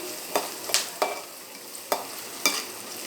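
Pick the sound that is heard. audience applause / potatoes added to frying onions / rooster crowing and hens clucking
potatoes added to frying onions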